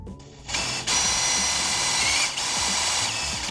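A power drill whirs steadily into aluminum, the high grinding tone dipping briefly mid-way before resuming, loud and close.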